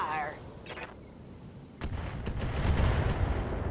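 LRM-10 missiles fire in the BattleTech video game in a loud burst of rapid launches and impacts that builds into a dense rumble, following a quieter stretch.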